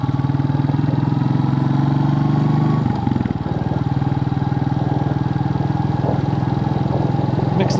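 Royal Enfield Bullet 350 motorcycle on a sunny ride, its single-cylinder engine thumping loud and steady from start to finish with a brief dip in pitch partway through, no voices.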